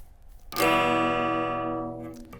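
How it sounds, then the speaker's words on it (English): An electric guitar played clean with a little reverb: a single strummed chord rings out loudly and decays slowly over about two seconds, alone with no talking. "This is the same thing, but with just a little bit of reverb."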